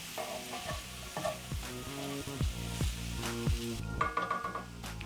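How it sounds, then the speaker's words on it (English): Coriander being stirred into sizzling meat pie filling in a pan, with repeated scraping strokes of a spoon over a steady crackle, close and fairly loud. "Stir in the coriander, and this smells amazing."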